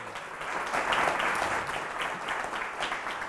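An audience claps in steady, dense applause that holds at an even level for a few seconds, close and full with no voices standing out.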